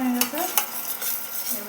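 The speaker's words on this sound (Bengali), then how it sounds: "জিরে বাটা দিয়ে আর একটু কষিয়ে নেব।" A spatula scrapes a pan in quick repeated strokes as an onion, garlic and cumin paste is stir-fried over a soft sizzle.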